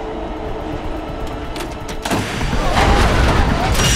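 Subway train rumbling through a tunnel during a bomb alert, a steady low roar that swells louder after a sharp jolt midway, with metallic clatter and screech above it.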